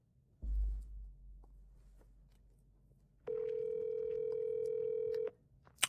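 A phone call is placed: a short low thump, a few faint taps, then a steady electronic ringback tone holds for about two seconds before cutting off.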